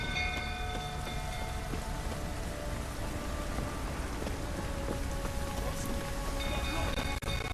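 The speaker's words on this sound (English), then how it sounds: "Looks like rain." Steady rain pours down in The Witcher 3, a dense, even hiss of drops on surfaces that holds throughout, with a faint low rumble in the background.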